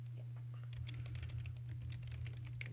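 Someone types on a computer keyboard, a quick, irregular patter of light key clicks over a steady low electrical hum, the tapping picking up pace after a brief quiet start.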